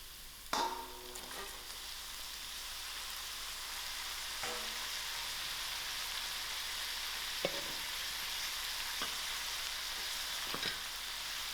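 Herbs and green chilies sizzle steadily in a hot pan while pumpkin and dried shrimp cook, with a constant broadband hiss and occasional stirring scrapes and clinks, close and moderately loud, no voices.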